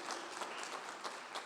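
A church congregation claps hands together during a sermon, a soft, steady patter of many hands heard from a distance.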